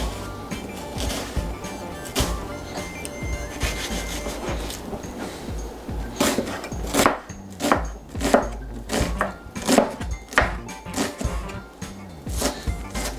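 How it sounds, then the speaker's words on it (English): A knife chops an onion on a cutting board in a home kitchen while meatballs are being prepared, giving steady, close, rhythmic thuds and scrapes that quicken toward the end, with little talk. "So we'll just cut the onion, all of it, and then we'll go from there."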